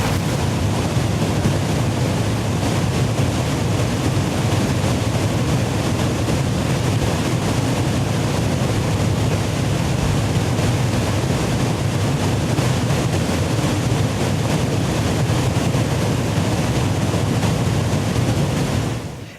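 Rushing water from a cascade swollen by a storm and floods, a steady broadband roar close to the microphone throughout, with wind buffeting and no talking.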